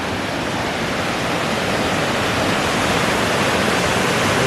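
A waterfall on the Little Wind River above Little White Salmon, Washington, pours with a loud, constant, full-bodied rushing roar that never lets up.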